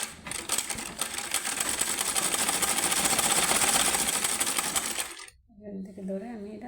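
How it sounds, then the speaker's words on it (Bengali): Sewing machine stitching a kurta, a fast steady mechanical whir with rapid needle clatter for about five seconds, then stopping abruptly as a person starts speaking. "এই যেখান থেকে ধরে আমি সেলাই করে দিচ্ছি।"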